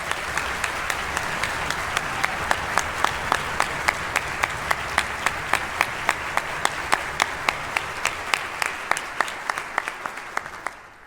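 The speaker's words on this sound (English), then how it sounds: "Can we give everybody a round of applause?" A large audience at the 2024 Missouri All State Band concert gives sustained, loud applause for about eleven seconds, with a steady crowd roar punctuated by crisp, regularly spaced claps near the microphone.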